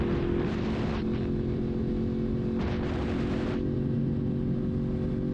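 A 1000cc sport motorcycle under way, its engine droning steadily and loud with a constant low roar, briefly swelling twice as the rider short-shifts up through the gears; no talking.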